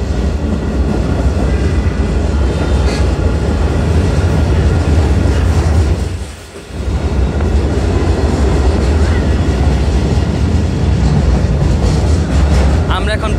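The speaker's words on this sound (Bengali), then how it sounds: "আমাদের ট্রেনটি এখন পাঁচচর বাজার অতিক্রম করে যাচ্ছে" A stone-laden freight train rumbles steadily past a rural market, loud continuous rolling and rattling heard from on board, with a short dip midway.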